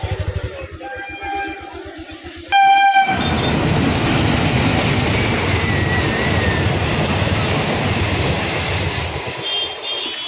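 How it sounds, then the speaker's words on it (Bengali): A train nears a rural level crossing beside open fields. Its horn blares in sustained tones, then a loud, steady roar with rolling wheel clatter follows as the train rushes past close by. "ও, ট্রেন চলে এসেছে।"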